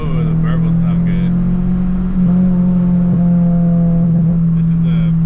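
A Subaru with a 5-speed gearbox idles and burbles through its exhaust in a deep, steady rumble, swelling slightly as the engine is blipped, with a voice talking over it.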